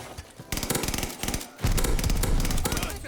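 Rapid automatic gunfire from an AS44 rifle in Call of Duty Vanguard rattles in fast close bursts, followed by a heavier boom and continued shooting, with a voice faintly underneath.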